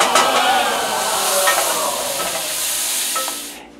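Butter melts in a hot saucepan as brownie batter is started, giving a steady, close, fairly loud sizzle with light scraping of stirring that fades out at the end.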